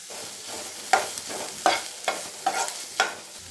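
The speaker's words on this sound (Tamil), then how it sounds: "ஃப்ளேமை லோ ஃப்ளேம்லேயே வச்சு நல்லா ட்ரையாக வறுத்துக்கலாம்" Crushed garlic and sliced snake gourd fry in a pan over a low flame, a soft steady sizzle broken by about five distinct scraping stirs of a spatula at a regular pace, close by, with no voices.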